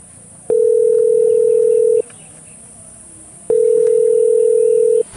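A steady telephone tone sounds twice, each burst about one and a half seconds long with a pause between, over faint background hiss.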